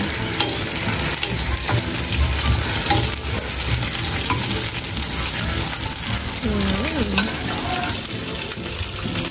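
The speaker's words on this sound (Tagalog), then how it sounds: "Igigisa lang guys ni Mama." Vegetables for kare-kare sizzle and are stirred in a hot pan, a loud continuous frying hiss with scraping and clatter, while someone speaks throughout.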